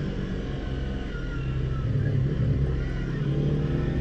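A motorcycle passes from the opposite direction on a remote mountain road during a solo ride, a steady engine rumble with a slight swell midway, heard over the rider's own engine and wind.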